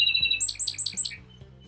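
A song sparrow sings a short, clear phrase: a few quick high notes, then a descending run of buzzy trills, close and bright over faint background rumble.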